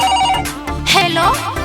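A telephone ringtone plays loudly within a Magahi comedy song, a tuneful repeating ring heard up close over voices and background music.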